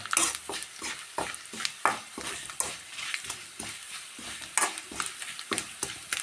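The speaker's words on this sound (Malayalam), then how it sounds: "ചില്ലി ഫ്ലേക്സ് നല്ലോണം മുരിഞ്ഞോട്ടെ" Chilli flakes fry in a pan while being stirred, giving quick rhythmic scraping strokes over a soft crackling sizzle, close and moderately loud.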